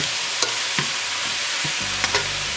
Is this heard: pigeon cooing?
no